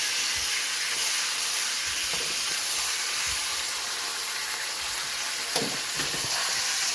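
Steak sears in a hot pan with butter: a steady, loud, broadband sizzle and crackle runs throughout, with a few sharper pops and spatters near the end.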